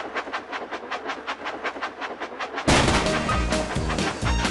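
A Thomas and Friends toy engine in a Magical Tracks game runs along rails with a rapid rhythmic chugging, then a louder burst of bright game music and effects kicks in partway through.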